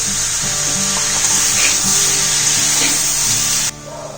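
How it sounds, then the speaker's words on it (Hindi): Four medium tomatoes, coarsely chopped, land in a hot pan and keep up a steady, close sizzle with scattered clatters and spits throughout, the hiss cutting off sharply near the end. "और इसमें हम टमाटर डाल देंगे।"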